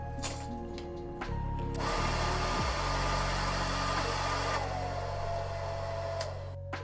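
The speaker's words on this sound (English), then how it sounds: "we just turn the hairdryer on" A steady electric whir of a hair dryer runs continuously, loud and close, heating glued foam and paper for terrain crafting, with some clunks of handling at the start.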